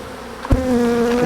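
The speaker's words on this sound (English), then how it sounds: "So we got a whole bunch of bees inside our plastic box there." Bees packed inside a plastic box buzz in a close, sustained drone, with a brief bump of handling noise midway before the buzz steadies and grows slightly louder.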